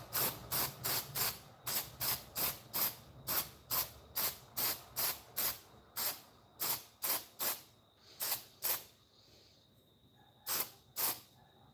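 A spray can of Quick Gal zinc paint fires a long series of short, sharp hissing bursts, each a fraction of a second, in a fairly regular rhythm with brief gaps, close and clear with no talking.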